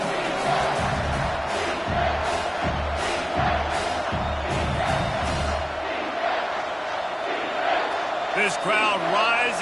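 A football stadium crowd at an NCAA Division I game roars steadily throughout, a broad loud cheer rising under a sports commentator's voice, with scattered thumps and shouts in the mix.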